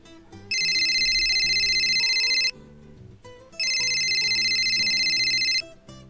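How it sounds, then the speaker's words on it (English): A telephone rings in two long bursts of about two seconds each, separated by a short pause. The bright electronic trill sits loud and close over faint, quiet background sounds. "it was a telephone."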